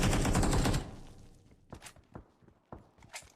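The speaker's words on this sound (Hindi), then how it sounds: "जैसे ही मुझे सामने की तरफ से फायर की साउंड आई" Gunfire in the mobile battle royale game BGMI: a dense loud burst of rapid shots at first, then several separate sharper shots and thuds spaced apart, some sounding farther off.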